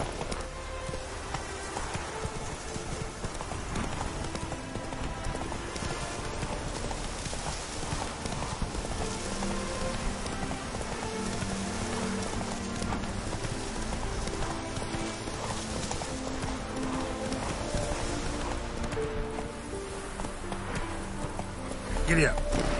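Roach, a horse in The Witcher 3: Wild Hunt, gallops with steady hoof clopping under a busy, continuous game soundtrack, with a voice talking over it.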